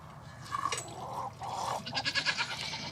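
Mother goats on a farm, upset and calling for their kids, let out several short bleats in a row, fairly faint against a quiet background.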